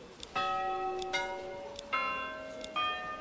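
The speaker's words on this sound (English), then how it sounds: "Church bell sound? Wait, I can change the church bell sound?" A church bell in the video game Manor Lords rings four times at an even, unhurried pace, each clear chime ringing on briefly before the next, fairly quiet and alone.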